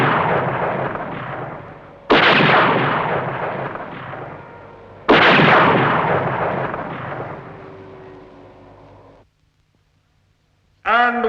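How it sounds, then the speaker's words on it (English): Gunfire is aimed at a flying machine in a Supercar puppet adventure, with three long, loud, roaring bursts of shooting that each fade away. A short pause follows, then a fresh burst begins at the end. "I fired at the machine"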